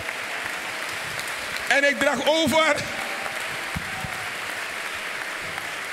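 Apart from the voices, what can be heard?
applause in church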